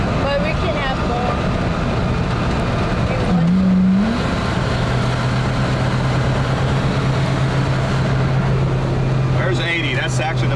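1970 Pontiac Bonneville V8 droning steadily while accelerating on a drive, loud cabin road and engine roar throughout with a brief rising tone, as people talk inside the car.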